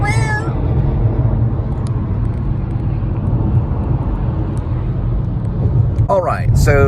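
Inside a moving car, a cat gives a couple of short meows at the start and again near the end over a steady, loud road and engine rumble.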